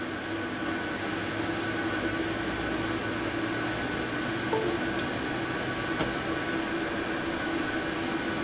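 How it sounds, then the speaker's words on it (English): A jet engine spools up as fuel is fed to engine number one in a Ryanair flight simulator game, a steady broadband roar with faint tonal whine holding even throughout, no voices. "There's the fuel going into engine number one."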